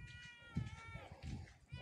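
A kitten meows a few times among storm-damaged streets after Hurricane Iota, short thin cries heard close and faint, with light background noise.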